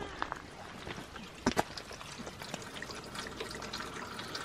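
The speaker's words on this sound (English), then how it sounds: "So now it's draining that whole gutter pretty quick." Rainwater from a house gutter, just cleared of a small clump of leaves, drains in a steady trickling, splashing flow with a couple of sharper drips or splashes, fairly close.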